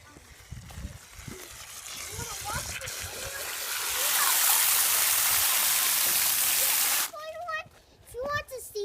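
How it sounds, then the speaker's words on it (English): Water hose running hard into a bucket before a Mongoose bicycle wash, a loud steady rushing splash building up and holding for several seconds, then cutting off as a voice talks over the end. "I'm gonna go get the water hose and fill up this bucket and put some soap in it"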